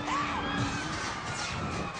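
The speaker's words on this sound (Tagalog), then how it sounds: "Palakpakan natin. May kasamang hiyawan pa yan." A studio audience at a Filipino variety show applauding and shouting, a dense, loud, continuous wash of claps and cheers with excited yells throughout.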